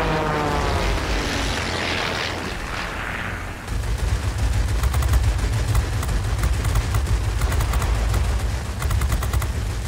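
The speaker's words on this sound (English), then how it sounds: "I think I'm getting shot at." Machine-gun fire aimed at the player's plane in the World of Warplanes combat flight game, rapid rattling bursts over a steady propeller engine drone that grows louder partway through.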